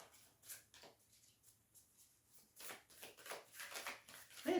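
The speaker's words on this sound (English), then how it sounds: "It's really making me shuffle." Tarot cards being shuffled by hand, soft papery riffles and slides in uneven bursts, quiet and close.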